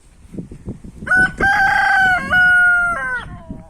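A fighting rooster crows loudly and close by, one long drawn-out cock-a-doodle-doo that rises and breaks into several held notes, with scratchy rustling and light clucking around it on a rural yard.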